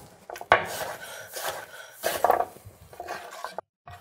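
Kitchen knife chopping roasted-salad butternut squash into bite-sized pieces on a board, several sharp close knocks and scraping strokes spaced irregularly, with clattering contact sounds between cuts.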